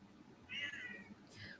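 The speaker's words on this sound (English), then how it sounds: "Meow." A house cat meows nearby, one drawn-out mid-pitched meow followed by a shorter second call, fairly faint over quiet room noise.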